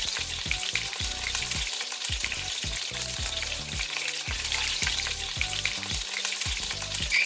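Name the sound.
cumin and carom seeds sizzling in hot oil tempering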